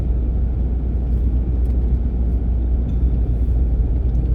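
A vehicle drives in low gear on a snowy road, giving a continuous deep engine and road rumble heard from inside, loud and even throughout with no talk.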